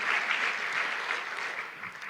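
A church congregation clapping together in praise during a worship service, a thick, even wash of hand claps that holds steady and tapers slightly near the end.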